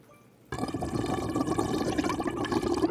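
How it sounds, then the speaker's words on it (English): Wine held at the front of the mouth gurgles and bubbles as air is drawn in through it, a close, continuous wet slurping that starts abruptly after a brief quiet pause and keeps going for a few seconds. "a little gurgling sound that we were making by holding the wine in the front of our mouth, inhaling oxygen"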